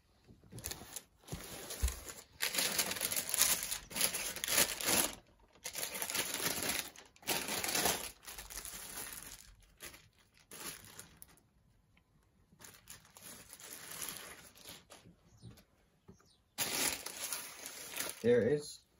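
Fear of God sneakers come out of their branded paper wrapping in a series of crisp crinkling and rustling bursts separated by quiet gaps, with speech heard in between.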